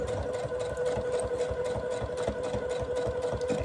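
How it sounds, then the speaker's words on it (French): A sewing machine runs steadily, stitching back and forth over fabric while reinforcing a seam, its dense mechanical hum continuous and close throughout with a rapid pulsing rhythm. "je remets ma couture juste en face de l'autre et je fais mes petits points arrière, mes petits points avant"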